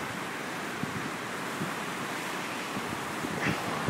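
The Connecticut River, running very high after Hurricane Irene, rushes steadily in a dense broadband roar near the Hoyle Bridge, with wind buffeting the microphone and no voices.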